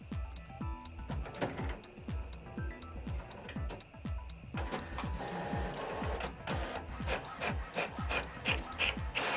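An HP OfficeJet Pro 9013 all-in-one inkjet printer runs a one-page print job, with rhythmic mechanical clacks and whirring carriage passes repeating steadily, close and alone, growing busier partway through.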